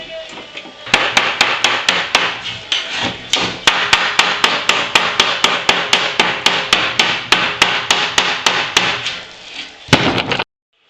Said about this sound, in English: and then kind of hammer this part down